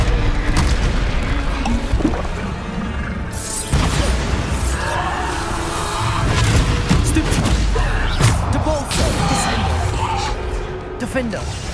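A Bombarda spell explosion in Hogwarts Legacy booms loudly amid a chaotic duel, with heavy crashing impacts, rumbling debris and repeated shouted spell names over the continuous battle din.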